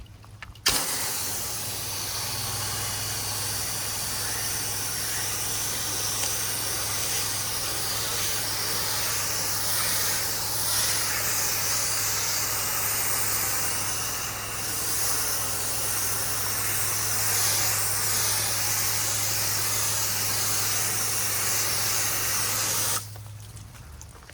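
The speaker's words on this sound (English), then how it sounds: "I like to have a deflection of my spray, usually at about a 45-degree angle when I'm rinsing" A steady, loud pressure washer jet hisses continuously against a house wall while rinsing, for over twenty seconds, with a low motor drone underneath, then cuts off abruptly.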